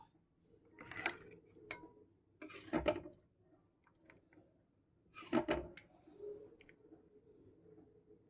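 Papaya and chana dal curry is transferred into a serving pot: a few sparse clinks of a spoon against metal and soft, wet squelches, fairly quiet and spaced apart.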